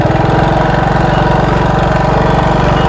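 A motorcycle engine runs steadily close by, throttle eased on gently by a learner rider, giving a continuous loud rumbling drone with a faint pulsing rhythm and no clear sharp rev peaks.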